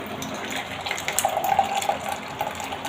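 Ginger tea poured from a pot into a cup late at night in a home kitchen, a steady liquid splash running close by for about three seconds with no talking.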